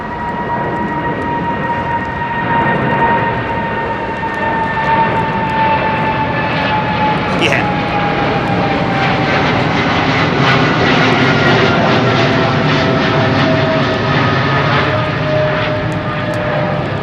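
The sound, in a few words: jet airliner engines at London Heathrow Airport under low cloud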